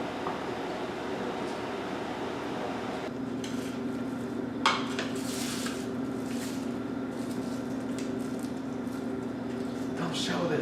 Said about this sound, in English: Use the back of your knife so that way you don't like damage the blade. And you scrape it up.